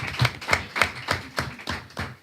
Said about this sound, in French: on peut vous applaudir pour votre magnifique travail et le travail à venir d'ailleurs